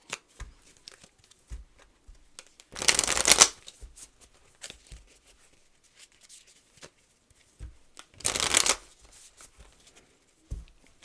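Tarot cards being shuffled by hand in two brisk bursts of riffling, each lasting under a second, separated by quiet handling and light taps.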